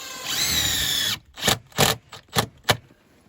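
A power drill drives screws into wooden cabin siding. It whirs steadily for about a second, then gives four short, sharp bursts, close and loud.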